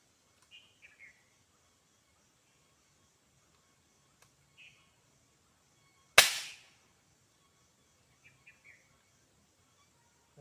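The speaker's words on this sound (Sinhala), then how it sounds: "හරි අපි දැන් වෙඩි තියලා බලමු මොකද්ද වෙන්නේ කියලා" A single sharp air gun shot fired at a jackfruit target outdoors cracks loudly and decays quickly, with a few faint bird chirps scattered before and after.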